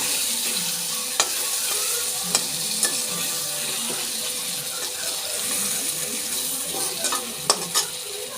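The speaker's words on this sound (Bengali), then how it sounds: "নুন আর হলুদ দিয়ে আলুটাকে লাল লাল করে ভেজে নেব।" Potatoes fry with salt and turmeric in a wok while being stirred. A constant close sizzle carries the sharp scrape and clack of the spatula against the metal every second or so.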